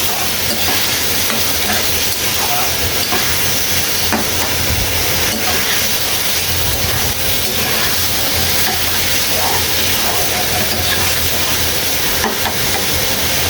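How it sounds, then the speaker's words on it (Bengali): Curry being sautéed and stirred in a pan, a loud, continuous sizzling hiss close to the microphone, with stirring scrapes mixed in throughout and no speech. "এইভাবে কষিয়ে নিচ্ছি।"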